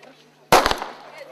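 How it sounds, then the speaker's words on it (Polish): A single sharp starting shot fired at the start of a bicycle rally, a loud crack with a short ringing tail, preceded by quiet outdoor background. "Sygnał do startu uczestnikom radosnego peletonu tradycyjnym wystrzałem dał patron rajdu."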